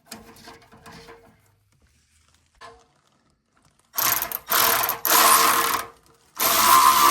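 On a Porsche 992 Turbo S build, 13mm bolts and nuts are tightened. A few faint clicks are followed by loud, close bursts of ratchet clicking, several in a row, each briefly pausing before the next.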